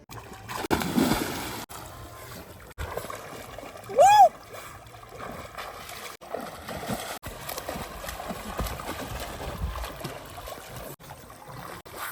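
A person plunges into water for a swim, with splashing and churning water throughout, a louder burst partway through, and people talking over it.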